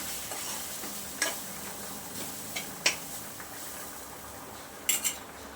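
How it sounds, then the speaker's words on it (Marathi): Grated coconut sautéed in a pan on the stove, a soft steady sizzle under occasional sharp clinks and scrapes of a spoon stirring against the metal. "तर आपल्याला एक दोन मिनिटासाठी खोबरं परतून घ्यायचे"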